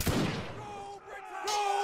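Musket volleys in a Napoleonic Wars line battle game: a loud burst of gunfire opens, followed by rolling distant shots and ringing tones, with a second loud report near the end.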